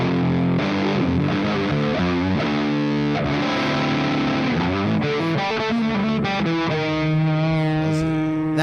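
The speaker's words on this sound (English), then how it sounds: "This is fuzz." An electric guitar played through a fuzz effect, thick and saturated, with sustained notes and chords ringing loudly and continuously for several seconds.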